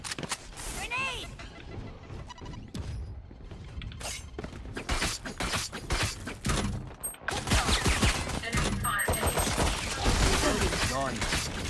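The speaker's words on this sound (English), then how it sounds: "Grenade!" A grenade and rapid gunfire ring out in a Valorant pro match, with clattering bursts of shots, mechanical clicks and a sharp tone. Excited voices talk over the dense, loud action.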